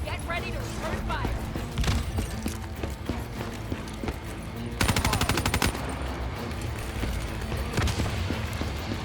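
Call of Duty Black Ops 3 firefight with sharp gunshots and a rattling automatic burst midway, layered over clattering mechanical noise and combat shouts from voices.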